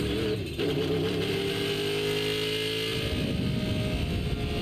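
Car engine of Bumblebee after transforming into a vehicle in the Transformers: EarthSpark video game, a steady loud revving drone with rising harmonic tones that shifts pitch partway through, with no talk.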